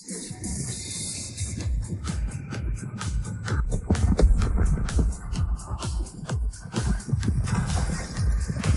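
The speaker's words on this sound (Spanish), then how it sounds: "¿Controlad los caballos?" Horses stamp and whinny amid a noisy scene of alarm under a splitting sky, hooves thudding in dense rapid bursts throughout with a continuous rumbling background.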